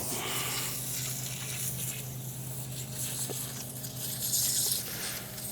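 Water splashes and pours steadily inside a broken-down freezer, a continuous close wash of liquid with no voices.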